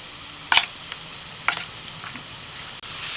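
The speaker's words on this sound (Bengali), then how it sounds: "এদিকে পেঁয়াজটাও একটু নাড়াচাড়া করে দিচ্ছি" Onion frying in a pan gives a steady low sizzle, broken by a few short scraping clatters of stirring near the start and middle, with no voices.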